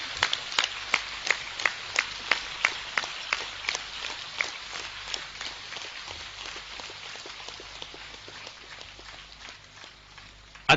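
An audience at a discourse program claps together in a steady, even rhythm, sharp claps spaced about half a second apart, fairly loud at first and then softening slightly toward the end.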